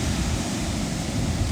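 Wind blowing hard on a beach, a continuous, loud roar of broadband rushing noise buffeting the microphone, with a low surf-like rumble and no speech.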